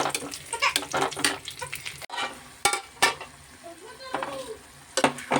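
Dried prawns fry in a pan for a brinjal masala curry, with soft sizzling and intermittent scraping stirs, fairly close and moderately quiet.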